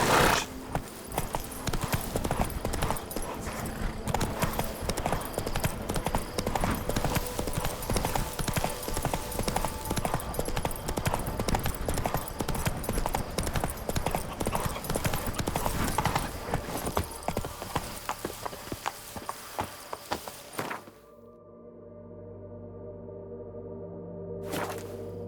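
Roach, a horse in The Witcher 3 game, runs at a fast steady gallop with dense rhythmic hoofbeats close by for about twenty seconds, and then the hoofbeats drop away to quieter ambient sound.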